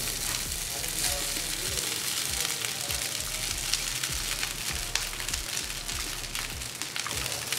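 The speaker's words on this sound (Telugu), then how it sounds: "ఇప్పుడు మనం ఫ్లేమ్ని లోలో పెట్టుకొని ముందుగా రెడీ చేసి పెట్టుకున్న రైస్ని దీంట్లో వేసుకుందాం." Pre-cooked rice fries with ajwain in a pan over low heat, producing a dense, constant sizzle with crackling pops and occasional stirring scrapes close up.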